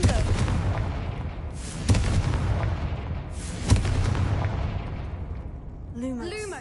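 Fiery Confringo spell blasts in Hogwarts Legacy: a sustained rumbling roar punctuated by two sharp booming impacts, close and loud, with a voice briefly speaking at the end.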